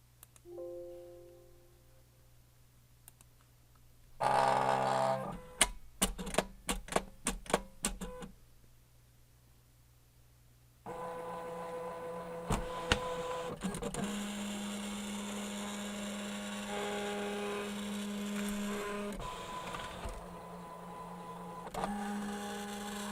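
A cutting machine works through a sublimation print for a 20 oz skinny tumbler wrap. Rapid clicking and stepping bursts come first, then a steady motorized whir with shifting tones that runs on to the end.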